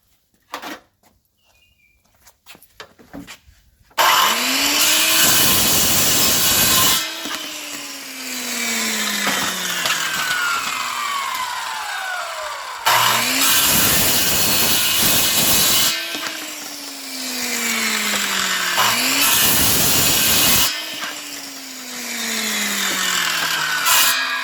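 A power saw whines loudly through three long cuts into pipe, marked every two feet, its pitch sliding down as the blade bites, with brief pauses between cuts.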